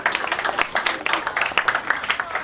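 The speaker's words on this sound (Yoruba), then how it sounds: "Let's put our hands together for Jesus." Congregation clapping at a Christian wake keep, dense steady applause that continues evenly throughout with voices faintly mixed in.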